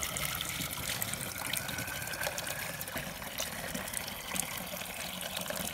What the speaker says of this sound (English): this is the place to stop and just fill up a whole lot of water bottles